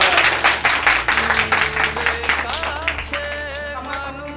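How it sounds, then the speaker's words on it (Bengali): An audience at a Father's Day gathering claps, a dense, loud patter of applause that runs throughout and gradually thins, with a voice and some tonal background sound rising over it toward the end. "ও হাততালি দিবেন না?"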